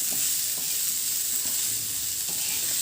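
Raw peeled potato pieces are stir-fried on a tawa, giving a loud, continuous sizzle with occasional soft scraping from stirring, close up and alone.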